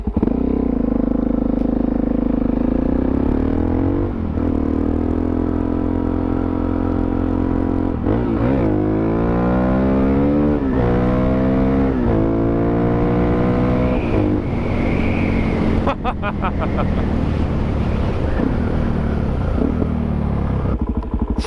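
A Suzuki DRZ 400SM supermoto pulls away and accelerates through the gears, the single-cylinder engine rising in pitch in repeated climbs with gear changes, loud and continuous from an onboard position under steady wind rush.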